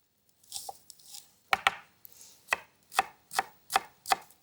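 A kitchen knife chops bacon and onion into fine brunoise on a board, giving a run of sharp, close cutting knocks, irregular at first and then a steady rhythm of about one chop every half second, with no talking.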